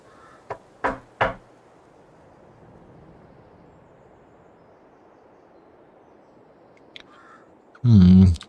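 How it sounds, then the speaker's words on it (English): A few sharp knocks on a door in the video game Farming Simulator 22, three quick raps followed by a long quiet stretch, then a brief click and a louder burst of noise at the end. "Let me just go knock on."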